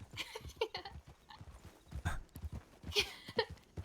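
Horse hooves clip-clopping in a video game, irregular close hoof knocks mixed with other game sounds and a brief whinny-like tone, fairly quiet overall.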